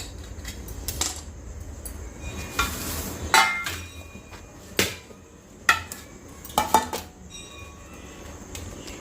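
Metal clinks and scrapes as a cooled homemade cake is loosened around the edges and removed from its tin, several sharp taps over a steady background hiss.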